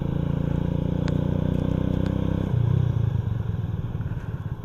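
A motorcycle engine drones loud and steady on a road, then shifts to a deeper, rougher tone midway as it changes speed, with faint clicks and road noise riding over it.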